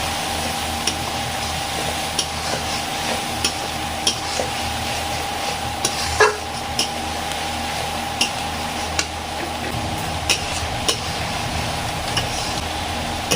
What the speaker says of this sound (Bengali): মশলাগুলো ভালো করে কষে নেবো